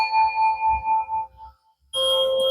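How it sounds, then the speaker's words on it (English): A single bell struck once, ringing with a clear sustained tone that fades out over about a second, followed after a short gap by a different bright ringing tone. "Where's my bell?"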